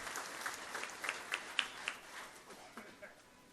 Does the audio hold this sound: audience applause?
yes